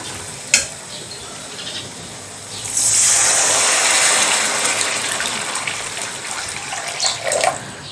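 A clink, then hot water pours steadily into a pot of matki dal amti with a gushing splash and faint sizzle, ending with a couple of utensil knocks.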